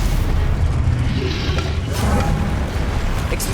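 A spell impact in the video game Hogwarts Legacy, a heavy booming blast with a deep low rumble throughout and crackling bursts near the end, loud and close.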